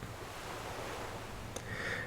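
Ocean waves wash in a steady, soft hiss of surf, close and even, with a brief faint click near the end.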